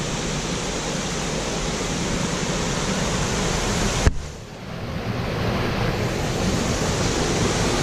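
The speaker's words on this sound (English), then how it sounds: "Let's get a closer look to this falls here." A small waterfall in the woods above a shallow swimming hole, heard as a steady loud rushing wash of falling water close by, unbroken apart from a brief dip midway, with nobody talking.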